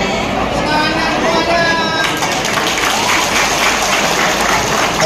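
A crowd claps and cheers at a political campaign rally in Sragen, a steady, loud wash of applause mixed with crowd noise and voices throughout.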